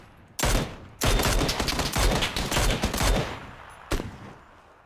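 Rapid gunfire bursts in a multiplayer shooter video game, several loud sustained volleys of automatic fire back to back, then a single short burst after a pause.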